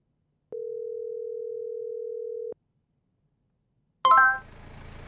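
A steady telephone dial tone plays in the Roblox Squid Game video game, holding for two seconds before stopping. After a pause comes a bright, metallic clang with a fading, hissy tail.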